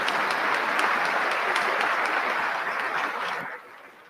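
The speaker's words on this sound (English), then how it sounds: "Another round of applause for the United States Army's newest officers." Sustained applause from a large audience at a joint Army officer commissioning ceremony, dense and steady clapping that tapers off near the end.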